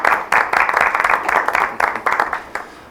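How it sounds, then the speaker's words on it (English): A short round of applause from a small group at a board of education meeting, brisk uneven clapping close by that starts and stops within a few seconds. "We could have a small round of applause."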